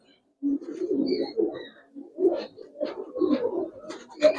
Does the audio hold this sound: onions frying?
no